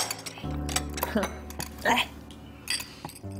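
Glasses clink together in a toast: a few brief, light chinks heard close by, mixed with talk and soft background sounds.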